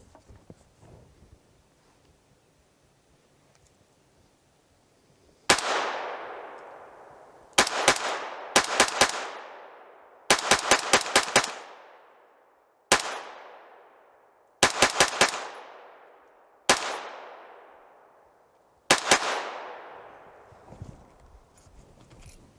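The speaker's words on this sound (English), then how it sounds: "let's go ahead and get her loaded up and see how it's going to do with the more rapid fire" An AR-15 rifle fired in sharp bursts of rapid shots with a Caldwell brass catcher fitted, several loud close volleys separated by short pauses, each burst ringing out briefly, preceded by a few seconds of quiet.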